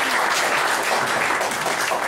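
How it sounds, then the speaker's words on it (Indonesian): Audience applause at a NET CJ Camp event, a dense, even wash of many hands clapping, close and loud for the whole stretch. "Tepuk tangan dulu untuk Mas Tama."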